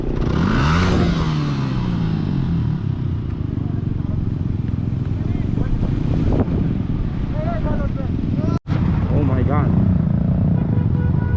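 Motorcycles labour through loose beach sand at Cox's Bazar, engines revving and straining amid gusting wind noise, with excited voices shouting and talking over the scene.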